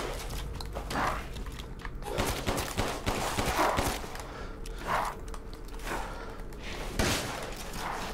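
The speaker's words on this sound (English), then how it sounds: "Let's just go with the shotgun." Shotgun blasts in Resident Evil Village, several heavy booming shots spaced a second or so apart amid thuds and movement, fairly loud against a quiet background.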